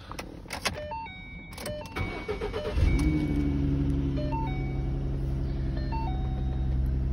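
Ford Mustang convertible starting up: door and interior clicks and chimes, then the starter cranks and the engine catches around three seconds in, settling into a steady, close idle with a high warning chime repeating over it.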